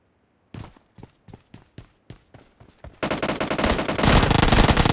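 Gunfire in an online gun game: a string of about eight separate sharp shots spaced evenly after a short silence, then a sudden loud, dense burst of rapid automatic fire that builds and continues to the end.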